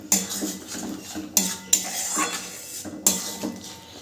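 Spice paste being stirred into a vegetarian paneer curry in a pan, with repeated scraping clinks of a utensil against the metal and a few sharper knocks, close and moderately loud, no talking.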